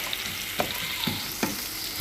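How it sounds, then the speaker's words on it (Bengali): Onions frying in oil in a pan for birista, with a steady close sizzle broken by a few sharp scraping stirs. "পেঁয়াজটা বেরেস্তা করার জন্য দিয়ে দিয়েছি তেলে। আর এখানে নাড়াচাড়া করতে হবে।"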